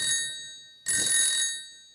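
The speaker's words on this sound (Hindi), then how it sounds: "तनक फोन आ रहा हो, घर से बात कर ले" A telephone bell rings in two bursts, a short one followed by a longer one, clear and fairly close, with a pause in between.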